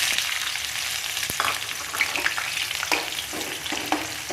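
Small shallots hit hot oil already popping with fenugreek and mustard seeds for a tamarind bitter gourd curry, giving a continuous bright sizzle with scattered crackles and a few utensil knocks, close up and without speech.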